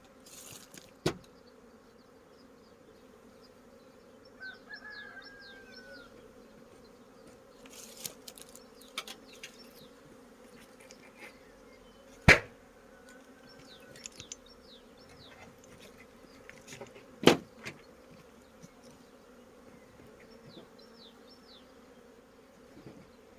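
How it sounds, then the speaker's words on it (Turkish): Honey bees hum faintly and intermittently at a hive entrance against a quiet background, with occasional sharp clicks and knocks scattered throughout. "Ve bu arımızı da kovanın uçuş deliğine bırakabiliriz."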